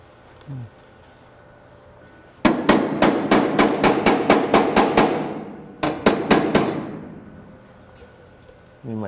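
Metal hammer strikes against a dolly while repairing a welded-in front fender repair panel on a Porsche, a fast run of sharp ringing taps, a pause, then a shorter burst, close and loud.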